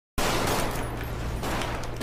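Rapid gunfire from a multiplayer shooter video game erupts as a dense, loud burst of automatic shots that lasts about two seconds without pause.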